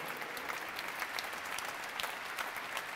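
Concert audience applause at a Christmas orchestral concert, steady dense clapping from a large hall crowd, continuous and moderately distant.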